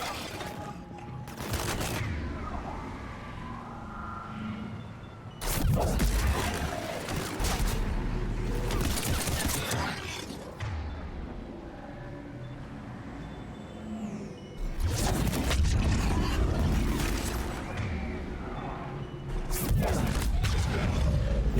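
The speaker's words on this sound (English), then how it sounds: "There's the explosion." Explosions and heavy gunfire boom through a Mass Effect 3 battle, with loud, dense bursts of blasts and rattling fire that come in several waves amid constant combat noise.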